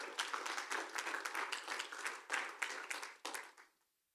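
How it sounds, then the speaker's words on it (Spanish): A church congregation applauding during a sermon, a lively burst of many clapping hands with a few louder accents that carries on for several seconds, then stops abruptly and drops to silence. "denle un aplauso a la gloria del Señor"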